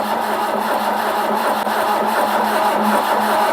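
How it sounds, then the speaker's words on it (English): A restored Mk1 Ford Capri 2.0 engine cranks over without firing, giving a loud, steady, continuous mechanical drone with no talk. "we're going to just turn it over just to get some oil around without it starting"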